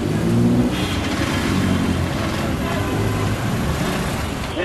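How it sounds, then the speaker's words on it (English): Busy street traffic in Dhaka, Bangladesh: a loud, dense mix of car and bus engines rumbling and revving close by, with continuous road noise and no pauses. "Yes, traffic."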